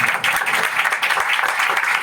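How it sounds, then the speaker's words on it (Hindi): Brief burst of enthusiastic audience applause at a church sermon, many hands clapping together in a dense, steady patter that fills the whole moment without any talking. "सब लोग खुश हैं जी? पाकों के लिए जोरदार ताली लगाएं।"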